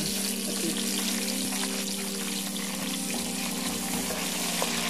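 Chopped tomatoes sizzle and fry steadily in a pan of oil while lentil pulao cooks, a continuous close hiss with faint stirring clatter and no talk.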